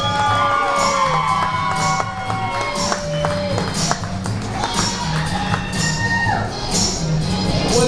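A comedy club audience at the Loony Bin in Oklahoma City cheering, whooping and clapping loudly as a comedian is brought up, a dense, sustained crowd roar with shouts rising above it.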